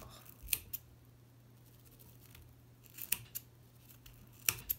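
Scissors making a rough trim on material at a fly-tying vice, a few crisp snips close by, spaced apart in quiet.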